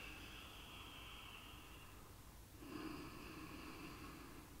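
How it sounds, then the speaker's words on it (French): Ujjayi breathing during a dynamic yoga class, drawn through a slightly constricted throat: a soft, steady oceanic hiss that shifts from one breath to the next around the middle. Close and quiet, with no talking. "Et on se concentre sur le son qui circule dans le creux de la gorge."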